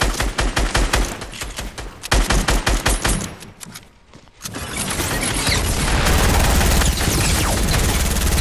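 Rapid gunfire in a shooter video game, a burst of evenly spaced shots that breaks off, then a dense, sustained roar of continuous firing, loud and close, with no voices.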